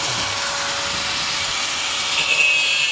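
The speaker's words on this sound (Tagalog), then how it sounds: "grinder ang ginagamit kasi pag minamano-mano mo yan, abutin ka mamaya" A grinder works a metal medallion with a steady, continuous broadband whir and rasp that holds at one level throughout, shifting slightly in pitch near the end, with no voices.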